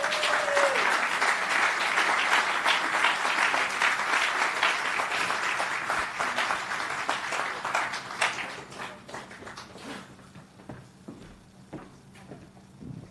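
A crowd at an annual memorial evening event applauds a singer called to the stage; dense clapping that thins out after about eight seconds into scattered individual claps before fading away.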